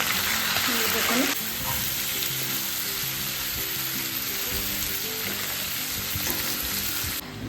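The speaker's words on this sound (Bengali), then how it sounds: "এখানে চিকেনটা অনেকক্ষণ ধরেই আমি ভাজতে দিয়েছি" Chicken with salt, chilli and coriander frying in a pan, a loud continuous sizzle with stirring scrapes, louder at the start then settling to a steady hiss.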